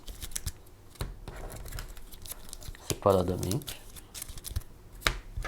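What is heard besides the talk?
shuffling objective cards of the board game Beez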